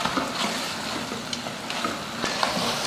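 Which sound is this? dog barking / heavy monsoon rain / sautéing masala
sautéing masala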